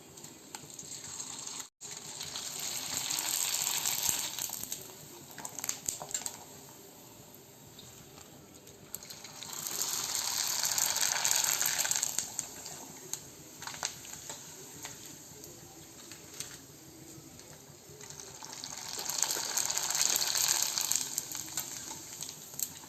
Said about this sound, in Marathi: आता आपण पापड्या तळून घेऊया। हे पहा, किती छान डबल पापडी होतीये तयार, एकदम छान पापडी तळून निघतीये।